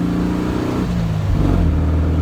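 A 1999 Volkswagen with a 1600 single-port engine driving along, its exhaust giving a loud, continuous low drone close by, pitch rising and shifting slightly as it goes.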